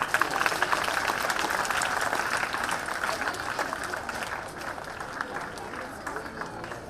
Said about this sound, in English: Children, please clap.